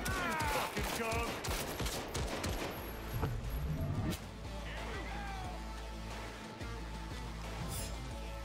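Rapid bursts of gunfire crackle through a Cyberpunk 2077 firefight, dense at first then thinning into scattered shots, with game sound effects and a voice speaking over the action.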